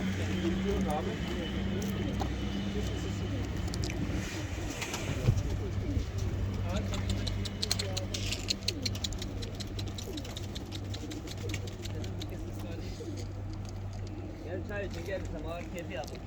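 Performing pigeons coo softly and steadily in a loft amid faint background rustling, while someone talks over them at moderate distance.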